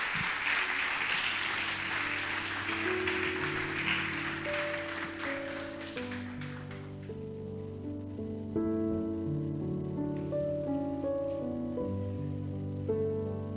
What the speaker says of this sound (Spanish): Iglesia, démosle un aplauso al Señor por estos videos.